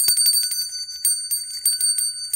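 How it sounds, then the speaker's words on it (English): Small hand-engraved metal bell, probably from the Middle East or India, in a traditional bell shape, rung rapidly with a series of thin, bright, high tinkling strikes that fade between shakes. "Here's a nice little one, traditional shape for a bell."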